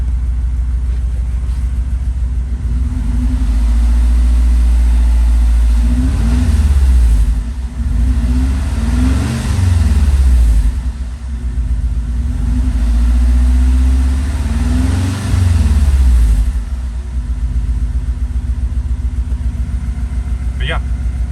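A built Audi A4 B8 with a big turbo engine idles loudly and close, its deep steady rumble broken by several revs that swell and fall back, while a person talks over it.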